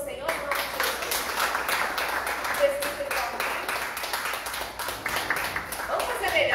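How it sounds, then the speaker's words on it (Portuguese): A church congregation applauds during a sermon, giving a dense, steady wash of clapping that fills the room and carries on evenly with no single voice standing out. "Você pode aplaudir ao Senhor em nome de Jesus?"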